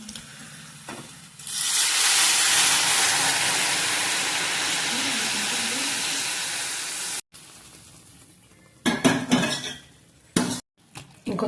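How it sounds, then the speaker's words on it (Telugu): Liquid masala charu rasam poured into a hot tempering in a pot, bursting into a loud steady sizzle for several seconds, followed by clinks and clatter of utensils against the pot. "నెక్స్ట్ రసము పోపులోకి వేసేసుకుందాము."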